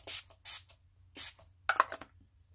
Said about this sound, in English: And I'm gonna spray the Wet n Wild Cucumber 3-in-1 Primer Water.